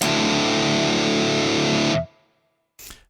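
A high-gain metal guitar amp run through Celestion speaker impulse responses plays a thick, saturated sustained chord for about two seconds. It cuts off abruptly, followed after a short gap by a brief burst.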